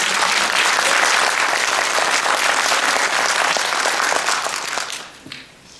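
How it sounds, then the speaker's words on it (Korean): Loud, dense applause from a crowd at a Korean political rally, many hands clapping steadily and close for several seconds before thinning out and fading near the end. "총재님께서 큰 박수 한번 다시 보내드립니다."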